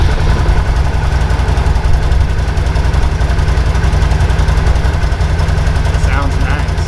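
A new performance vehicle's engine runs at idle, a loud, steady low-pitched rumble with rhythmic pulsing throughout, close to the microphone, with a brief voice near the end.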